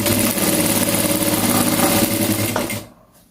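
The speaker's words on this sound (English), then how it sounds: "When you pedal your machine and it comes forward, you also press the reverse lever for it to go backward." A pedal sewing machine stitches fabric for a simple pencil gown in a fast, steady mechanical whir with rhythmic needle clatter, close and loud, winding down to silence in the last half second.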